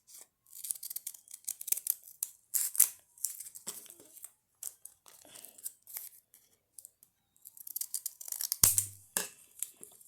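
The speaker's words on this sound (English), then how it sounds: "then we'll use the scissors again" Scissors snip through folded paper up close while making a paper shuriken ttakji, giving short crisp cuts in uneven bursts with quiet gaps and rustling between them.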